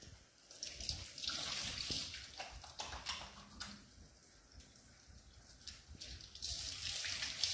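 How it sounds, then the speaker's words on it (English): Tap water runs continuously while hands are washed beneath it, with uneven splashing and small shifts in the flow, close and moderately quiet. "Roll up long sleeves and wash hands."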